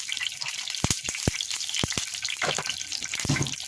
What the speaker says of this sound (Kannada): ಒಗ್ಗರಣೆ ಹಾಕ್ಕೊಳ್ತಾ ಇದ್ದೀನಿ